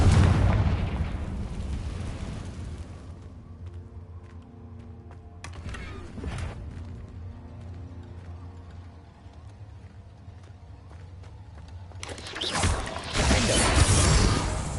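Confringo explosion spell in Hogwarts Legacy, with loud booming blasts at the start, a short burst around the middle and another heavy explosion near the end, rumbling decay between them.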